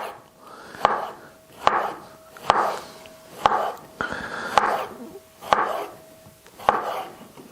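Knife slicing a pear on a wooden board, crisp regular cuts about every second with a board tap at each, close and clear, no talking.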